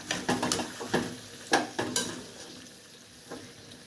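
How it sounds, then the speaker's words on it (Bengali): Small prawns cook with a little water and masala in a pan for a jackfruit prawn curry, a spatula scraping and clattering in quick irregular strokes over a soft sizzle, then quieting toward the end. "এই ছোট ছোট চিংড়ি মাছ না ভেজে এরকম করে ভাজাই হয়ে যাচ্ছে জলের সাথে,"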